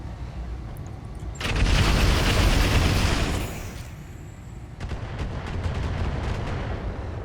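Mech weapons in BattleTech (RogueTech) pound a Flea mech, a heavy booming volley of artillery-like shots that rumbles for a couple of seconds, eases, then returns as a second sustained barrage, loud and near.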